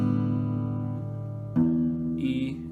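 Acoustic guitar strings in standard tuning ring out and sustain, then a fresh strum or pluck cuts in partway through, with brighter upper notes at the end. No voice is present.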